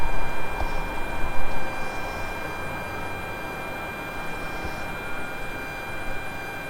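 A Tu-154B jet engine spools up during start in the FlightGear flight simulator, a steady whining hum with faint tonal lines that is slightly louder at first, then settles into an even drone.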